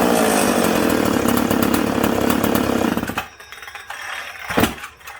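A McCulloch Pro Mac 850 chainsaw runs loud and close with a steady, rattling high-revving buzz for about three seconds, then cuts out abruptly, leaving quiet shop sounds and a brief knock.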